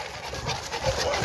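Boerboel dogs pant in quick rhythmic breaths during a night walk, close by and steady for a brief moment, with faint background noise around them.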